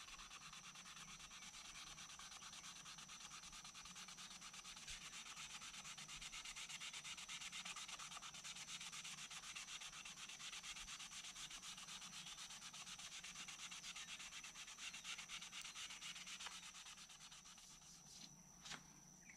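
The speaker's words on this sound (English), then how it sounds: "So I'm just roughing up the area and just trying to get that finish off the limb." A Tru-Oil finish being sanded off a cracked wooden selfbow limb: steady, continuous close-up rubbing and scraping with no talking, easing briefly near the end.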